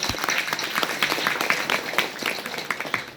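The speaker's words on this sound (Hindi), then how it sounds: "तो सबसे पहले तो आप अपने नाम से एक बार ताली लगाना जोर से कि आप सभी सनातनी हैं।" Audience at a Hindu gathering clapping loudly together, a dense run of overlapping claps that holds steady for a few seconds.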